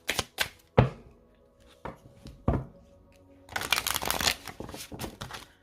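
A deck of oracle cards gets cut and shuffled up close: a few sharp, separate card snaps, then a dense burst of riffling flutter, with no talking.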